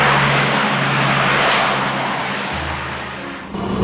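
Lockheed C-130 Hercules engines in reverse as the aircraft slows on a runway: a loud, continuous roaring growl that swells, then eases off toward the end, with no talk.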